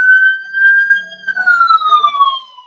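A loud, wailing police siren sweeps in a steady tone that slowly bends downward, heard close and alone with no voices over it.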